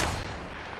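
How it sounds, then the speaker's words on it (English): Loud burst of gunfire from a shooter video game, a dense, continuous blast filling the short moment with no pause and no voices. "Opening fire on the enemy."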